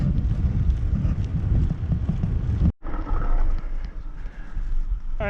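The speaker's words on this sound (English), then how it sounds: "there's a little bit of wind, and it's all in my face right now" Steady wind buffets the microphone of a cyclist riding on a trail, a loud, rumbling low roar with constant gusty flutter and one sudden brief dropout midway.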